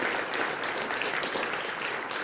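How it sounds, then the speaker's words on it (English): A Sunday church congregation applauds students after a student-led service, a full, even roar of many hands clapping at once through the whole moment. "Let's give a round of applause just to our students."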